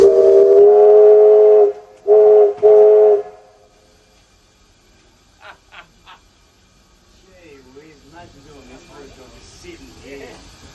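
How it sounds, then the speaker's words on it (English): Steam whistle of locomotive R761 blown from the footplate at a workshops open day: one long loud blast followed by two shorter ones, then quieter background noise and faint voices. "climbing the footplate of R761 and getting to blow the whistle"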